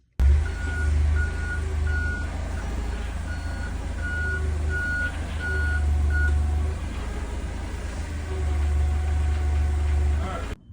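A forklift in a workshop sounds a steady series of evenly spaced reversing beeps over a heavy low engine rumble, with the beeping pausing and resuming partway through.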